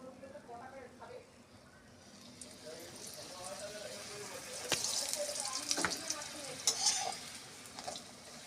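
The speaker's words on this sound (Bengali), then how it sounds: "দেখুন অল্প তেলে ভাজা হয়ে যাচ্ছে পরোটা" A dal paratha fries in a little oil in a hot kadai, giving a soft hiss that grows louder and brighter partway through, with a few sharp scrape-like clicks and a voice murmuring early on.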